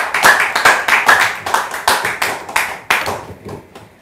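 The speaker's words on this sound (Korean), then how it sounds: "박수를 많이 해주세요." Audience applause at a Korean talk or lecture gathering, a dense run of hand claps close by that holds steady for several seconds, then thins out and fades toward the end.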